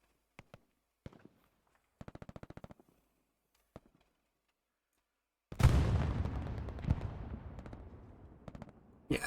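A Pak 38 anti-tank gun fires in the Hell Let Loose World War II shooter: one heavy, loud boom with a long rumbling decay, after a few sparse, faint distant shots and clicks.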